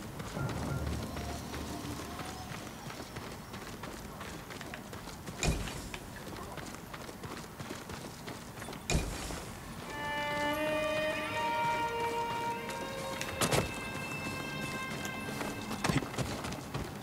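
Horse hooves clip-clop steadily in Ghost of Tsushima, a continuous moderate trot under game ambience, joined midway by bright musical tones and a few sharp thumps.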